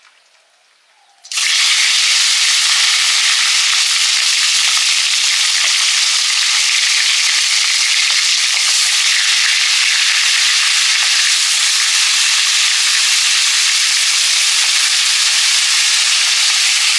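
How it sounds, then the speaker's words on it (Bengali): Fish rubbed with salt and turmeric drops into hot mustard oil after a brief quiet moment, bursting into a loud, steady, close sizzle and crackle that holds unbroken to the end, with no talking. "মাছ নুন হলুদ মাখিয়ে ভাজবো।"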